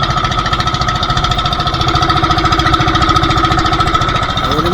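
Loud, steady drone of two boat engines with a fast rhythmic throb, running continuously without pause at speed, on a night spearfishing trip.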